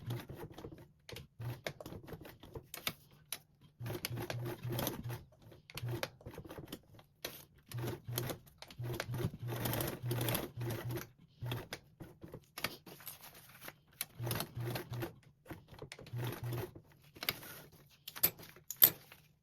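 A sewing machine stitches Velcro onto a duffle bag in repeated short bursts of rapid mechanical whirring, separated by brief pauses, fairly quiet and close with no talking.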